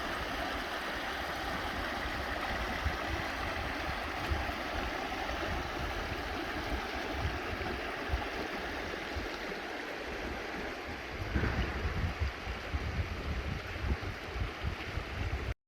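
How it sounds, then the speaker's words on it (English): A vehicle fording the Howqua River in the Victorian High Country, with steady loud rushing water and a low rumble running throughout, no voices. "Time to cross the Howqua River and leave Bindaree Hut."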